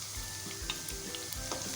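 Curry leaves crackle and sizzle in hot oil as they fry for a dhaba-style mixed dal tadka, a steady close hiss with small pops and a faint stir, no voices.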